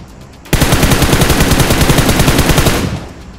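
Sustained rapid automatic gunfire in a battle-royale shooting video game, a loud continuous burst starting abruptly and running about two and a half seconds before tapering off, with no talking.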